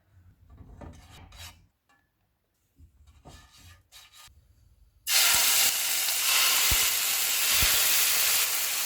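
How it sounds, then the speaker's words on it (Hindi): Peri peri chicken goes into an oiled pan after a few soft rustles and scrapes, then bursts into loud, continuous sizzling frying close by that carries on with occasional faint knocks. "अब हम इनको फ्राई कर लेते हैं। पैन में हम ऑयल लगाएंगे।"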